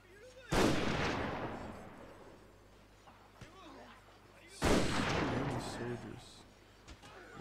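Musket volleys from massed Teppo Ashigaru in the battle game Shogun: two loud, crackling volley bursts, one near the start and another about four seconds later, each trailing off into a rumbling decay.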